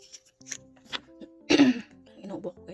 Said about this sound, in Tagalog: Inuubo ko guys.